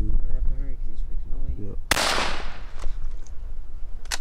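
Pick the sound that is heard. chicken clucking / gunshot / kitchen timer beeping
gunshot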